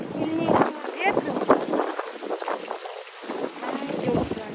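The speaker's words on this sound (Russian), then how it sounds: "очень сложно противостоять этому сильнейшему ветру." Very strong cyclone wind at the sea in Yalta, roaring and buffeting the microphone in heavy gusts, with someone talking over it throughout.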